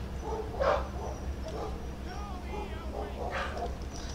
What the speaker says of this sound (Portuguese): Agora tem trovão, tem meus cachorros latindo.